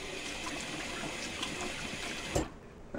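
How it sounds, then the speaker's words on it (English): Hot water runs steadily from a sink tap while someone rinses their face after shaving, a continuous close splashing hiss that stops abruptly near the end. "I'm just going to do it here in my sink. So I'm just going to rinse off with hot water."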